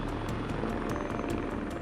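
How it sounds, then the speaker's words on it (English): Canadian Armed Forces Griffin helicopter on a rocky beach, rotor thumping in a steady rapid rhythm over a continuous engine roar, close and loud throughout. "they called in Canadian Armed Forces Griffin helicopter, which has landed on the beach"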